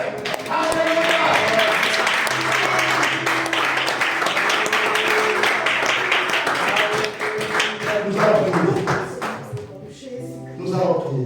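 A church congregation at a morning service applauds and cheers in a long, dense wash of clapping, with voices and music-like tones mixed in, thinning out toward the end.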